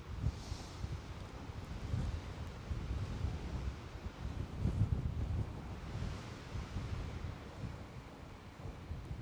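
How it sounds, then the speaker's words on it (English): Strong outdoor wind buffeting the microphone from behind, a continuous low roaring rumble that swells and eases over several seconds, with no talking. "this wind right now is coming directly from behind us. I'm sure you can hear it."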